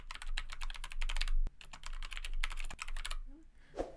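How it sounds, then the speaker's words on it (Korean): Computer keyboard keys clatter in quick bursts while a table title is typed into a word-processing document, with a heavier spacebar thump between runs, close and crisp. "스페이스바를 눌러서 이렇게 띄어쓰기를 하고 표 제목을 입력합니다."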